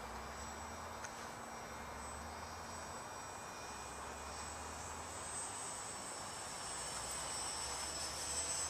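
An RC model Cessna 390 airplane with landing gear out drones at a distance, a steady faint engine whine that slowly grows a little louder, with no talking.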